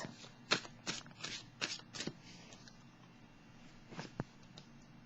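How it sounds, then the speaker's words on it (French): Tarot cards being shuffled by hand in a quiet room, with a run of soft riffling bursts in the first two seconds and a few more flicks later on, close and moderately loud with no voices. "Je vais piger une carte."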